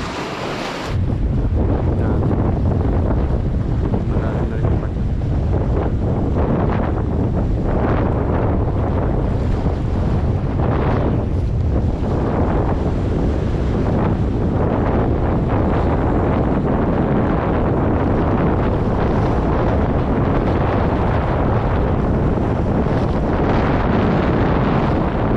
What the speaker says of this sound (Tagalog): Pero ramdam pa rin yung laki ng alon dito.